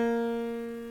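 A halved string plucked once gives a clear tone an octave higher, a bright sustained note with strong overtones that fades gradually over about a second, heard alone.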